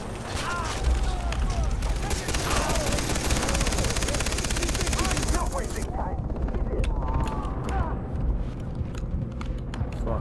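Rapid gunfire crackles continuously with heavy booms and explosions in Far Cry 3, a dense, loud battle soundscape with no clear pauses.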